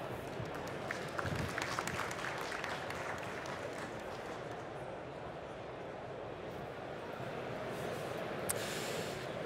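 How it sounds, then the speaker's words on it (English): An audience at the Slush 2023 startup pitch semifinals gives a round of applause, heard as a soft, even wash of clapping that stays fairly faint and distant throughout. "Let's give a huge round of applause."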